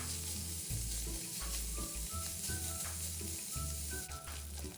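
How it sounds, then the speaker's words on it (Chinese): Strips of pork belly sizzle steadily in a hot wok over medium heat, a loud continuous crackle and hiss with occasional stirring scrapes and no talk. "200克五花肉切成细条状，再倒入热货内，中火煸一煸香。"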